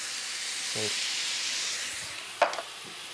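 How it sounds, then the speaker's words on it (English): Canned tomatoes poured into a hot pan of cooking spices, giving a steady broad hiss and sizzle close by, with a brief clatter near the end. "we add in a couple of tins of tomatoes"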